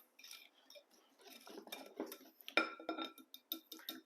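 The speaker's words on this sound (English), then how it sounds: "And whisk it." Baking soda and sugar whisked in a bowl for banana bread: quick clinking scrapes of a whisk against the bowl, building into busier, louder rattling strokes toward the end, close by and with no talking.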